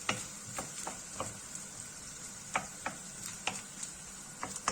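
Egg being stirred and frying in a pan for Erzurum-style çaşır kavurması, giving a soft steady sizzle with scattered light ticks and scrapes of the spoon against the pan, quiet and close.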